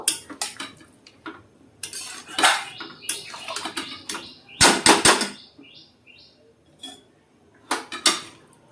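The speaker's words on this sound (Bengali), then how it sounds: "চামচে করে তুলে নেবো প্রেসার কুকারে দিয়ে দেবো" A spoon scrapes and clinks against a metal pot while scooping potato curry into a pressure cooker, giving scattered, close, sharp metallic knocks and scrapes with short pauses between them.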